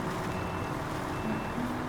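A video game truck idles with a steady low rumble while a reversing beeper sounds faintly over it, continuous and close.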